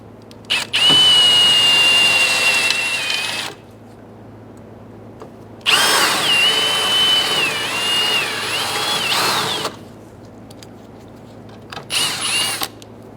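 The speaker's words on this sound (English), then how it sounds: "We're going to go ahead and drill these out." A power drill whines loudly in three bursts, drilling out rivets on a 2011-2018 Ram 1500 headlight mounting bracket, two long runs of a few seconds each and a short final one, with its pitch dipping as it bites in.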